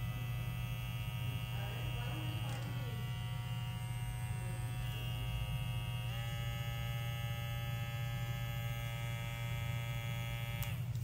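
Electric hair clippers running at their low speed setting give a steady motor hum with a constant buzzing whine, unbroken from start to finish and alone without any talk.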